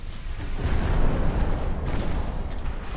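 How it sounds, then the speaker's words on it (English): Naval gunfire in Ultimate Admiral Dreadnoughts: a steady rumbling barrage of heavy cannon booms and distant explosions rolls on throughout, dense and continuous rather than separated into distinct shots. "Just a hail of accurate gunfire."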